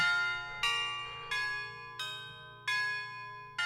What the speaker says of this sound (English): I actually have some chimes, some orchestral chimes to cover one of these parts